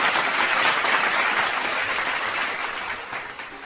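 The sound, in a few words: audience applause for a poet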